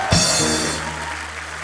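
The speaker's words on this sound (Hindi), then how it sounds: "वरुण और आलिया के लिए जोरदार तालियां" Studio audience applause on a Hindi comedy talk show, a loud burst that starts abruptly and fades over under two seconds, with no talk over it.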